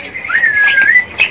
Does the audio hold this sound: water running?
no